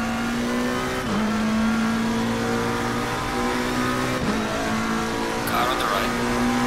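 Race car engines from a racing video game at the Nürburgring hold a loud, steady whine throughout, shifting pitch at gear changes near the one- and four-second marks, with a brief tire squeal late on.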